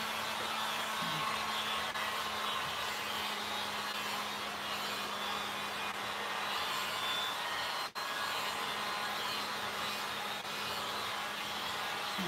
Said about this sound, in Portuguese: Esse aqui é um soprador térmico que eu tenho